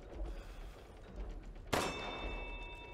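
A metal bell in Resident Evil Village is struck once with a sharp, loud clang, its bright metallic tone ringing on and slowly fading over a quiet, low background hum.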